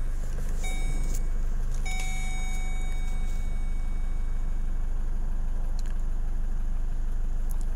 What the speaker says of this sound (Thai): สตาร์ทรถนะครับ